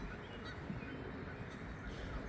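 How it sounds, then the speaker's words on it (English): Geese or similar waterfowl honk outdoors, faint and distant, a few scattered calls over a soft background hush, with no voices. "As you enjoy the view, listen to the birds chirp by."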